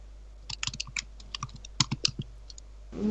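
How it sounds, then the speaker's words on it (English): Keyboard typing sound effect: bursts of quick, crisp key clicks in irregular clusters with brief pauses, fairly close and clear, with no talking. "it's when Hella is typing"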